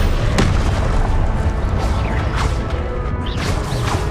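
Confringo explosive spell blasts in Hogwarts Legacy gameplay, a dense run of loud booming crashes and impacts that fill the whole stretch with little pause.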